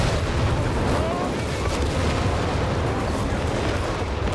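Naval bombardment in the game Company of Heroes 3 lands as a dense, continuous rumble of booms and blasts that stays loud and unbroken throughout.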